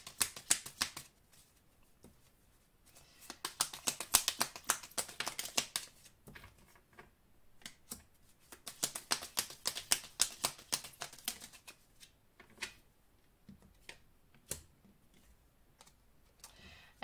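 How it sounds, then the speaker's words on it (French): Tarot-style soul message cards being shuffled and drawn, crisp riffling bursts of papery clicks in several clusters separated by quiet pauses, close and fairly soft with no talking. "je vais maintenant prendre quelques cartes messages d'âme à âme"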